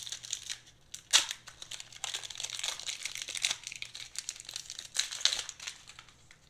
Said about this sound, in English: Let's keep ripping into the packs.